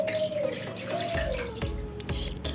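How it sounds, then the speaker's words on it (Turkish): Hot syrup poured over a freshly baked orange revani cake, a continuous liquid trickle and splash with a faint ringing tone, steady and close for a few seconds with no talking. "Şimdi şerbetini ilave"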